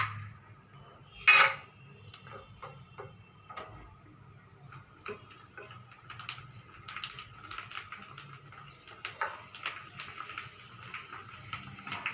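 Pani puri dough rounds frying in hot oil: a quiet start with a single sharp metallic clink, then a steady sizzling crackle with scattered pops building from midway on, close and moderately loud.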